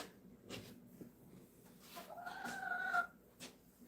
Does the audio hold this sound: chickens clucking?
yes